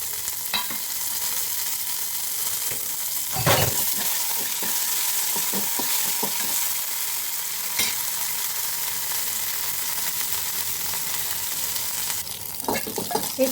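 Mustard seeds and plenty of garlic sizzle in hot oil during tempering for dhokla, a steady bright frying hiss broken by a few spoon clinks and stirring knocks, up close and without speech.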